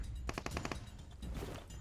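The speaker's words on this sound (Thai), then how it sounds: "เสียงปืนอยู่ทางขวาด้านหลังเรานะครับ" Automatic gunfire in the mobile battle-royale game PUBG Mobile, a rapid burst of about six shots in quick succession, fairly close and loud, followed by a low rumble of game ambience with no talking.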